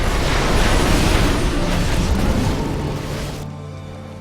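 Loud, dense StarCraft 2 battle din of gunfire and booming explosions, a continuous roar that fades slightly before cutting off, with no talk.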